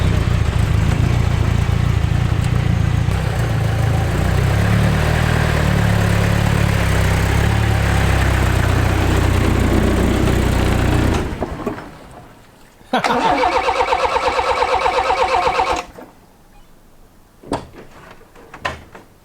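The 18R-G engine of a Toyota Hilux runs loudly and steadily, then cuts out abruptly; a second short burst of running follows before it stops again, leaving near silence with faint clicks.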